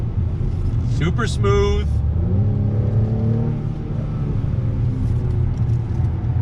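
A 2021 Acura TLX A-Spec sedan accelerates on throttle, its engine note rising in a steady rumbling climb that stays close and prominent beneath a voice talking over it.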